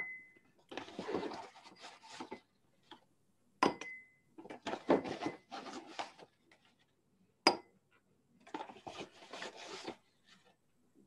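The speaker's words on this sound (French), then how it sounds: "vous prenez 6 ou 7 cuillères de maïzena" Cornstarch being spooned into a bowl, with bursts of spoon scraping and clinking against the bowl, close and moderately quiet, separated by short pauses.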